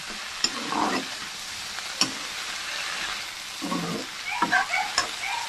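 Vegetables sizzle in oil, salt and turmeric in a kadai while a spatula stirs them, giving a steady fry hiss broken by several sharp metallic scrapes and clicks against the pan, heard close up with no talking.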